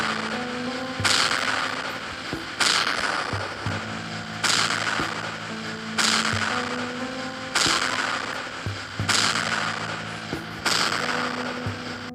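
Loud, sharp gunshots in a video drama recur about every one and a half seconds, each a broad burst with a rumbling tail, like heavy gunfire repeating at a steady pace.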